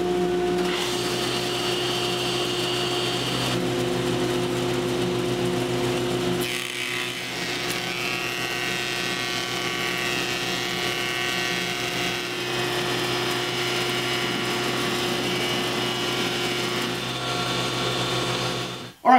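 A Williams and Hussey molder planer runs Azek molding, a loud, steady machine drone with a high-pitched whine that shifts partway through as the stock feeds, continuing unbroken for about nineteen seconds before a sudden stop.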